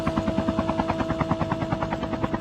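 Helicopter in a battle royale video game, its rotor chopping loud and close in a fast, even pulse that fills the whole moment alone.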